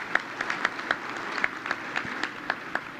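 An audience applauding, a continuous patter of many hands clapping at a moderate distance, steady for the whole stretch with no voices over it.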